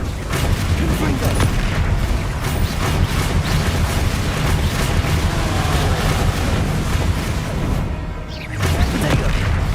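Repeated booming Confringo spell explosions in a Harry Potter video game, loud dense blasts and crashes rolling almost continuously, with a voice speaking over the gameplay.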